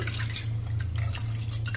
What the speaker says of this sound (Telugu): మరలా ఇంకోసారి కూడా మనం బాగా కడిగి పెట్టుకోవాలి